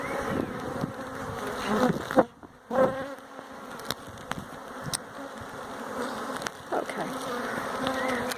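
Bees buzz all around outdoors, a steady close swarm hum with individual insects droning louder as they pass near, plus scattered small clicks and knocks.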